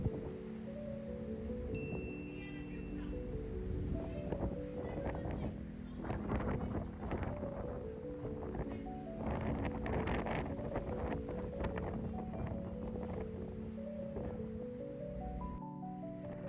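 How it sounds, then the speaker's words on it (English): Strong wind buffets the open deck of a BC ferry, a steady rumbling roar across the microphone, with the low hum of the ship's engine underneath and a voice speaking faintly. "The wind presses against us, steady and unrelenting"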